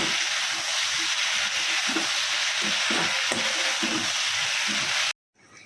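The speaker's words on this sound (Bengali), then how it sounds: "এরই মধ্যে দিয়ে দেবো চিকেনগুলো একটু কষিয়ে নিয়ে জল দিয়ে দেবো" Chicken pieces sizzle loudly in hot oil as they are sautéed for chilli chicken, a steady hiss broken by rhythmic scraping stirs, ending abruptly in near silence.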